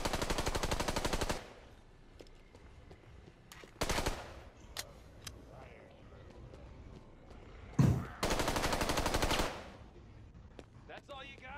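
Gunfire in the zombie game Contagion: two long bursts of rapid automatic fire, loud and close, with scattered single shots and quieter gaps in between.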